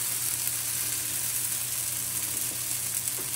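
Batter sizzles on a hot tawa with an even, close, continuous hiss that stays level throughout, and no one speaks over it.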